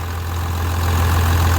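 A truck's 12v engine idles with a stock exhaust whose muffler has been swapped for a straight pipe, and its air filter is choked. A steady, deep, even rumble holds close and loud throughout, with no voices.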